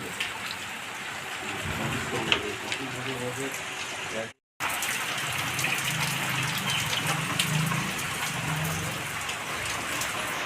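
Steady rain pours down on a monsoon day, a dense, even hiss close by that cuts out for a split second before resuming, with a person talking under it.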